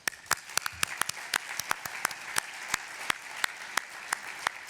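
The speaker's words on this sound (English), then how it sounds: "Let's give this entire group a round of applause." An audience at the Idaho Technology Council Hall of Fame awards event gives a round of applause, distinct claps popping in a loose, uneven rhythm over a steady bed of softer clapping, with no voices.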